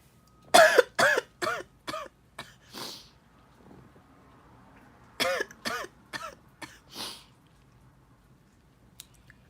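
Two clusters of sharp coughs, several in quick succession each time, close and fairly loud with quiet pauses between.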